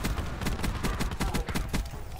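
Rapid gunfire from the Apex Legends video game, a quick burst of close, evenly spaced shots lasting about two seconds.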